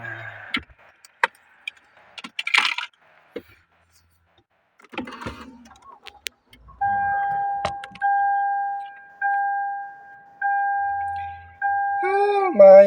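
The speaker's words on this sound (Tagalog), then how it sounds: "Labas-pasok yung sasakyan. 3 araw na to nakatingga sa labas. Papasok ko lang." A car is driven in and parked, heard as scattered clicks and knocks followed by a loud, repeating two-tone beep in long, evenly spaced pulses.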